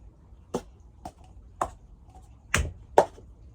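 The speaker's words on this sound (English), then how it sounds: "So clap, grab, hand, table, pass, table, table." Cup song rhythm played on a table, with sharp percussive claps and cup taps struck one at a time in an uneven pattern, five distinct hits over a few seconds against a quiet background.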